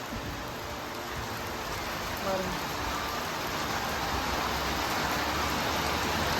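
Steady rain falls in an afternoon downpour, a dense, even hiss of drops on surfaces that holds from start to finish, close and moderately loud with no voices.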